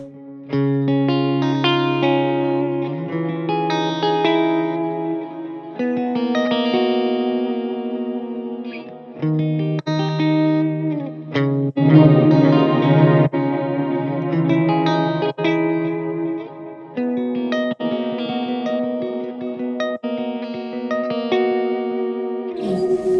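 A guitar through a Mooer Ocean Machine dual delay and reverb pedal preset, clean sustained notes and chords blooming into lush repeating echoes and wide reverb tails over about twenty seconds.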